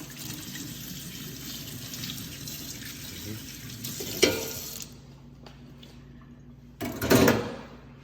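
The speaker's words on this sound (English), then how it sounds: "let me wash my hands on this" Tap water runs steadily into a sink while hands are washed during a home cooking class, the flow continuous and close before cutting off, with brief splashes near the end.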